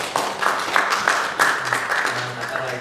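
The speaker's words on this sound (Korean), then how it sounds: "우리 박수로 축복합니다" A church congregation applauds in blessing, brief, uneven clapping from many people mixed with a voice speaking over it.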